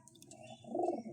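Close, soft cooing from a high-flyer pigeon, a female, in a loft, a short low throaty coo swelling toward the end amid faint chirps from other birds nearby.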